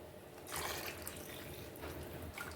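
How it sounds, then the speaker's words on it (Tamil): Water poured into a simmering Jalebi fish curry, a soft, steady close-up splash and trickle of liquid running for a couple of seconds with no voices. "குழம்புக்கு தேவையான தண்ணி ஊற்றிக்கலாங்க."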